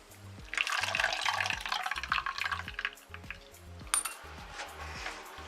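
Tamarind water is poured into horse gram rasam, a splashing liquid stream with scattered drips and clinks. It fades partway through, then another burst of splashing follows, with soft music underneath.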